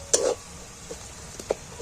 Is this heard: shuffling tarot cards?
no